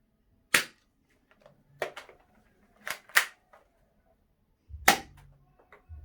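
A Lehui Glock toy manual pistol fires a handful of sharp, dry snapping shots at irregular intervals, each a brief crack with a small mechanical click trailing after it, in an otherwise quiet space.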